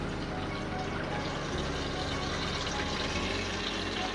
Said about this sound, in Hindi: ये तकरीबन 2 गिलास के करीब मैंने इसमें पानी डाला है।